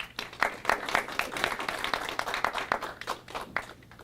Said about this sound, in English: May you clap.